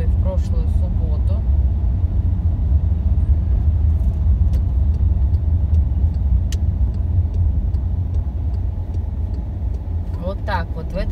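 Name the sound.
car driving around Senate Square, St. Petersburg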